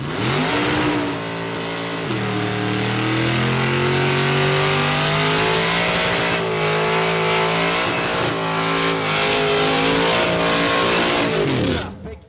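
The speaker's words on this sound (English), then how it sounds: "Final round burnout" Final-round burnout by a nitro drag racing car at Warwick Dragway, Australia: a loud sustained engine roar with shifting pitch and tire squeal lasting about eleven seconds, then cutting off abruptly.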